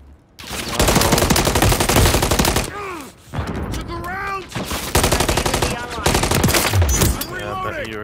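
Sustained automatic gunfire fills a Modern Warfare 3 Domination match, with long loud bursts broken by short pauses while game voice callouts speak over the shooting.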